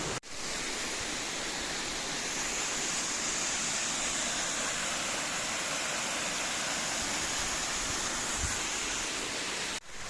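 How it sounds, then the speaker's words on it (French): Water pours over the top of a waterfall at the Grandval cascades in Cantal, a dense, steady rushing roar heard close by. "Là, on est tout au sommet de la cascade, à son point de départ."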